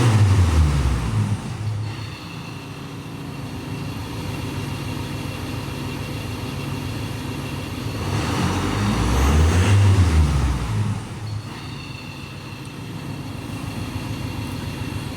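A Ford Transit van engine with a low-power fault idles, then is revved twice, each rev swelling and falling away in a steady mechanical drone.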